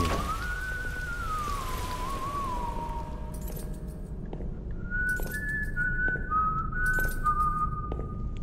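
Clear tonal whistling in the mobile horror game White Day, a long wavering note followed by a series of short repeated whistled phrases, over a steady low background hum and faint tapping.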